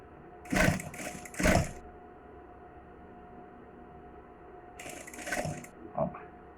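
A sewing machine stitches a gathered shoulder seam on a test garment in quick bursts, two short runs near the start and two more near the end, separated by quiet with a faint steady hum, no talk.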